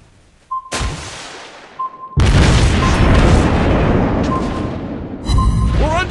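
Torpedo explosions in the World of Warships naval game: a short burst, then a massive sustained roar of detonation filling several seconds, with a second heavy blast near the end, loud and close.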